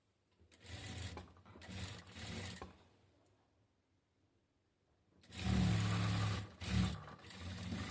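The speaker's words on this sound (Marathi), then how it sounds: "याला त्यामुळे आता एक स्टिच मारून घेणार आहोत" A sewing machine stitches a katori-style blouse in two bursts of fast, close, mechanical whirring, separated by a quiet pause of a few seconds, with no voices.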